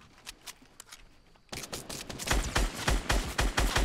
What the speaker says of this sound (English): I'm getting shot from everywhere, dude.